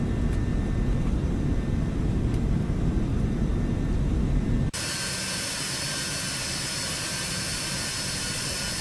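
A simulated MD80 airliner in X-Plane 12 drones with a loud, steady jet engine roar, first heavy and low-pitched, then cutting to a brighter, hissier whine from a different vantage point.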